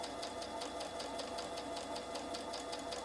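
A sewing machine stitches a quarter inch quilting seam, its needle ticking in a fast, steady rhythm over a continuous motor hum, close and alone with no talk.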